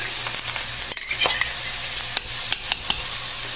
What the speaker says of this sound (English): I'm going to go ahead and mix together our other ingredients